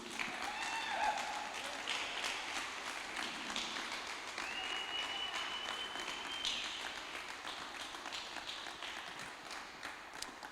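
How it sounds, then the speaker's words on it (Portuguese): A church congregation at a Thursday service gives sustained applause, a steady dense wash of clapping from many hands that stays even and fairly distant for ten seconds, with a faint tone underneath. "Uma salva de palmas para Jesus"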